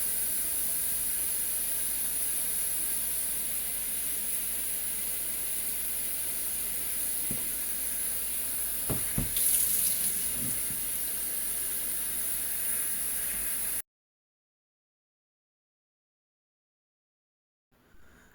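Clean water runs from a tap with a steady broad hiss for rinsing cassava, a few knocks and clatters midway, then silence near the end.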